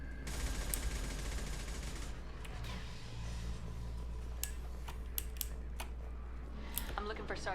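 Sharp gunfire from the video game Mass Effect 2 cracks out in scattered single shots and quick bursts over a steady low hum, fairly distant and moderate, with talk present throughout.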